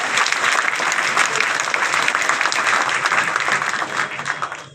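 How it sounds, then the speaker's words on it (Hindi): A seated crowd gives sustained, dense applause at a speech, loud and even throughout, tapering slightly at the very end. "इसलिए एक बार जरा मेरे सम्मान में ढंग से ताली बजाओ।"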